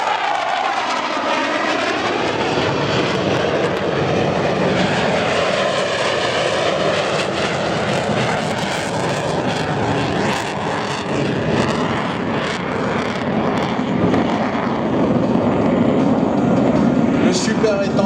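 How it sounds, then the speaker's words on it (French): Dassault Super Étendard naval jet flying at an air show, a loud continuous roar with shifting whine tones as it passes, sustained for the whole stretch. "Le Super Étendard est un avion made in Dassault"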